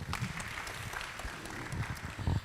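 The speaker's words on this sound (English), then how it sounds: "A round of applause for him, please." Students clapping in a round of applause at a school or university event, a dense patter of many hands held at a moderate level across the whole stretch, with no talking over it.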